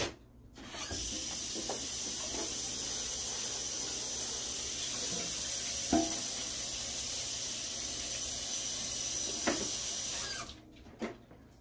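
Water rushing steadily into a kitchen sink as cooked food drains during preparation of a Mexican-style haystack meal. The flow is close, even and hissing for about ten seconds, with a few faint clinks, then it stops abruptly.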